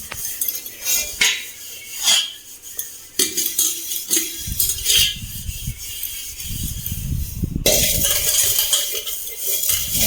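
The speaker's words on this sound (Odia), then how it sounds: "ତାକୁ ଟିକେ ଆଉ ଟିକେ ଭିମ୍ ଲିକ୍ୱିଡ଼ ଦେଇକି ଘଷି ଦେବାର ଅଛି" An aluminium kadai is scrubbed with Vim dishwashing liquid: repeated scraping and rubbing strokes with metallic clinks and knocks against the pan, close up and steady, with no talking.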